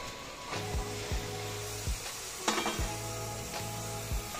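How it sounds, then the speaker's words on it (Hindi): Washed mutton tipped into a hot pot, setting off a soft, steady sizzle broken by several sharp scraping and clanking strikes as the meat is stirred, with no talking. "1 किलो गोश्त हम लोग ने अच्छे से धो के साफ करके इसमें हम लोग दे देंगे"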